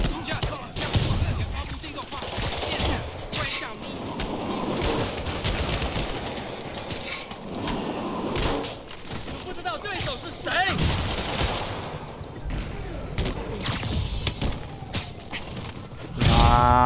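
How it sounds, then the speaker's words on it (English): Shootout gunfire in Spider-Man Remastered, with bursts of rapid shots and clattering volleys layered over game action and music, rising and falling across the clip before a loud final burst. "Shootout's gonna get someone killed."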